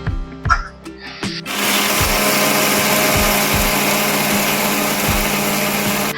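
A kitchen mixer grinder blends mango pulp from five large mangoes, starting after a few clinks and knocks and then roaring in a loud, steady high-pitched whir that runs unbroken to the end.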